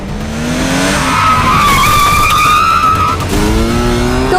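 Cartoon motorbikes race and skid in an animated superhero action show, loud and continuous with rising engine whines and long tire squeals sweeping across the scene, no voices heard.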